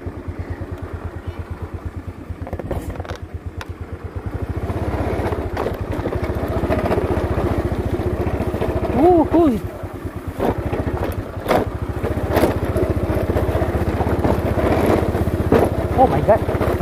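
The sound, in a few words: Honda motorcycle engine struggling, getting stuck on a bushy path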